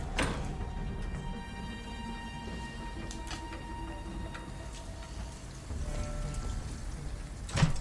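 Steady rain falls continuously in the video game Detroit: Become Human, a soft even hiss with faint occasional taps, quiet and unbroken throughout.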